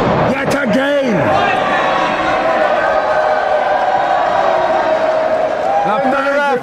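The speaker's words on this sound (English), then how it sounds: "The fans are cheering for Haku" Crowd of wrestling fans cheering in an arena, a steady loud roar of voices that goes on throughout, with a voice talking over it at the start and end.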